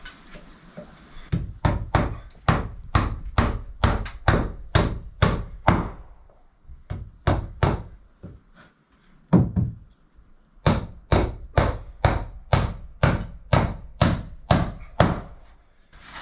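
A hammer drives two nails into a wooden block on a timber-frame shed loft, making long runs of steady, sharp, close blows with a brief pause between the nails.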